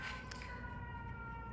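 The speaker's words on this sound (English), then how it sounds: "Every time I start a reading, there is a siren that goes off." A steady wailing siren drones on in the distance, holding a sustained tone without pause beneath a low background rumble.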